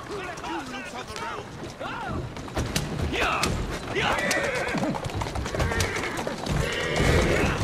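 A horse in Assassin's Creed Syndicate whinnies several times over steady clip-clopping hooves as it gallops, loud and close, with background game noise and a voice speaking throughout.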